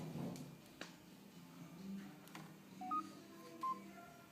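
A handheld barcode scanner in a World Market store emits two short, clean electronic beeps close together while an order is scanned, heard over quiet room noise and faint clatter.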